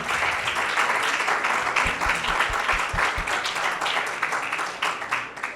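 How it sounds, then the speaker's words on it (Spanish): Applause from an audience at a Spanish-language architecture talk, a full burst of clapping sustained for over five seconds with a few louder nearby claps in the middle. "Un aplauso."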